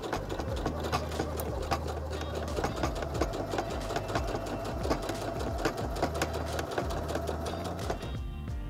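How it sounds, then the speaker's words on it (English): A Heavy Duty HD6605C sewing machine sews over a thick seam with a continuous, rapid mechanical clatter and a steady motor drone. It runs loud and unbroken before cutting off near the end. "Keep your finger on it momentarily as you sew over the thick seam, and then you can release it once you're across the seam."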